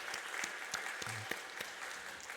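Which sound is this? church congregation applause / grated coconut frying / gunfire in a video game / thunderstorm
church congregation applause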